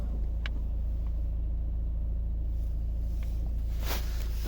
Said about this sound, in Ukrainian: дуже класно, швидко заводиться